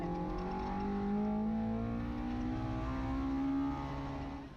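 On-board in a Mazda MX-5 rally car, the engine climbs steadily in pitch through a long pull before easing off, a clear, continuous rising drone heard from inside the cabin.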